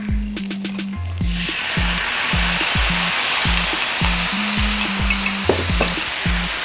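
Garlic and sauce sizzling in a hot pan while cooking General Tso's chicken, a loud steady frying hiss that swells as the sauce goes in, with rhythmic clinks of a utensil stirring against the pan.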